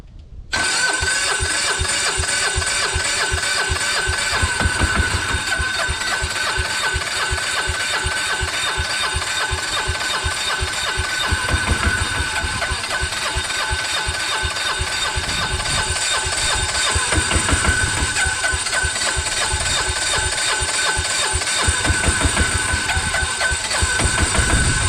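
An engine on a broken-down machine at a work site starts and settles into a steady, loud idle with the throttle pulled all the way down, its chugging drone running continuously close by.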